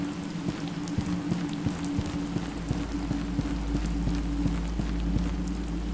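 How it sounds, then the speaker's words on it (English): Rain pours steadily through a leaky roof into a room in a video game, a dense hiss of drops with scattered sharper drips and a low steady hum beneath, no voices. "I think the rain cares not that the roof is even there"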